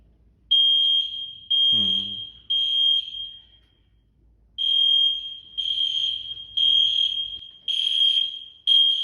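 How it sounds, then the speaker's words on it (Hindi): A building fire alarm sounds during a maintenance test: repeated loud, shrill electronic beeps in regular bursts with short gaps, plus one longer pause mid-way, close and clear with no talking. "देखते हैं कि जो हमारे फायर जो अलार्म लगे हैं वो काम कर रहे हैं या नहीं"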